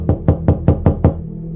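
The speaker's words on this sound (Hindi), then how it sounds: "किसी ने ज़ोर ज़ोर से खटखटाया" Loud knocking on a morgue door: six sharp, evenly spaced raps in quick succession, close and alone, then silence.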